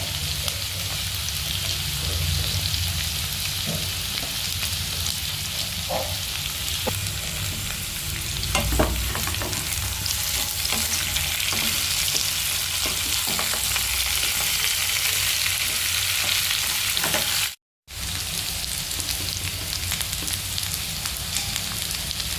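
Slit green chillies are tossed into potatoes and pumpkin frying in a pan, giving a sustained close sizzle with stirring scrapes and crackles throughout, broken by one brief cut near the end.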